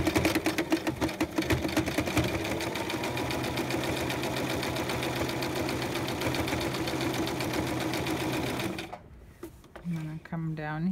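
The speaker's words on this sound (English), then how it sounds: "right now I'm gonna sew about 1/2 inch from the edge." A sewing machine stitches a zipper about half an inch from the fabric edge, whirring in a steady, fast mechanical rhythm for several seconds before it stops and a voice talks briefly.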